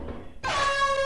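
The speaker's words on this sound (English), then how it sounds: "Honk your horn again." A loud air horn blares in the video game Lethal Company, one sustained harsh honk that starts abruptly after a brief low rumble and holds steady, close and alone.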